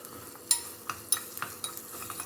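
Asafoetida goes into a tempering of hot oil in a pan for mango sambar, with a soft sizzle under a series of sharp metallic stirring clicks and taps; no one speaks.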